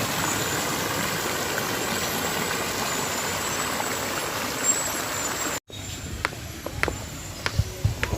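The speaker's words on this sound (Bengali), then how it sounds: "ঝর্ণা আর পুরো জল পড়ছে" Park fountain water falling and splashing, a steady broadband rush filling the scene, with a brief break then continuing alongside faint clicks and distant activity.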